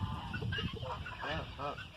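A tall, active barred carijó breeding rooster gives a few short, nasal clucking calls close by against a low background murmur.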